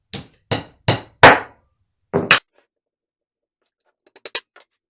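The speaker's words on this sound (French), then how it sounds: "Et je me les rentre au marteau." Wooden dominos are tapped into a glued woodworking joint with a hammer: four sharp, evenly spaced knocks, then a quick double strike, and finally a few lighter taps, close and crisp with silence between.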